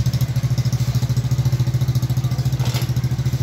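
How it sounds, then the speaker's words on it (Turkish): A motorcycle's newly fitted aftermarket exhaust putters in a steady, rapid low thump, loud and close, idling with a slight rev near the end. "Arkadaşlar şimdi size egzozu dinleteceğim."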